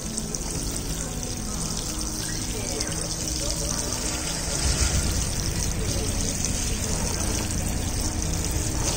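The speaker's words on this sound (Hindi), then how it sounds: "पानी आपको ऊपर से इस तरीके से देना है, हल्के फुहार के तौर पर देंगे।" Water pours gently from above onto soil in a grow bag, a continuous steady splashing and trickling that stays close and even throughout, with a slight swell partway through.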